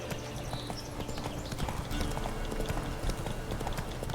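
Roach, the horse in The Witcher 3, gallops in a fast, steady clip-clop of hooves close by, a drumming rhythm that runs through the whole stretch with no talking.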